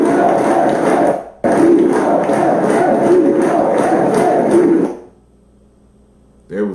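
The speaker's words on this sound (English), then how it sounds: "They was getting hyped in the crowd" Crowd getting hyped at a conference event, played back from a recording: a loud, dense wash of cheering and voices runs steadily for several seconds, breaks briefly, then cuts off into near silence before a short burst returns.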